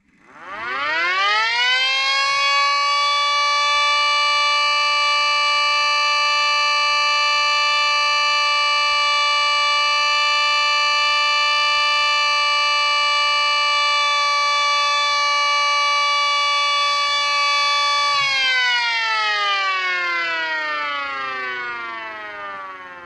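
A Sentry 40V2T mini siren winds up to a loud, steady wailing tone that holds for about fifteen seconds, then winds down in a slow falling sweep, heard alone and close.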